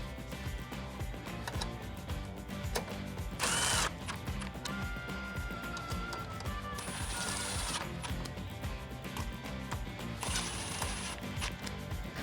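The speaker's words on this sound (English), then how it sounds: "Then take that 10mm socket and tighten it down." A 10mm socket tool whirs and clicks while bolts are tightened on a 2014-2015 Chevrolet Silverado 1500 grille, with short mechanical bursts over a steady low background and no talking.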